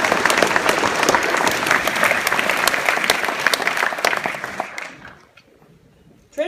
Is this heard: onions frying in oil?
no